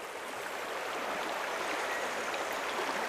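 River water rushes steadily beside a small backwater on a trout stream, a constant hissing flow with no voices.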